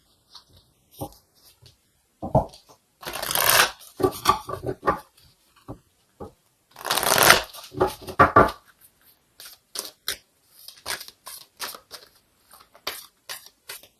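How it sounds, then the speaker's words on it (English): Oracle cards being shuffled for a tarot reading, with two longer bursts of riffling and a scatter of short card slaps and taps, close and fairly quiet, with no talking. "So let's go ahead and get an oracle card here to confirm this."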